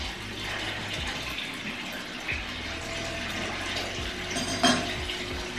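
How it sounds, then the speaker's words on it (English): Hot water running into a bathtub, a steady wash of flowing water with small clinks and knocks of handling in a quiet room. "I'm gonna fill this up a little with hot water"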